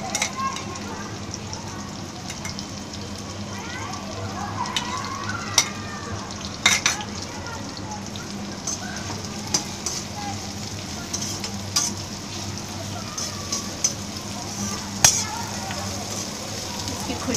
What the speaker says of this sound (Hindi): तो अब हम इसमें गार्लिक और चिली जो कूट के रखा है वो डालेंगे।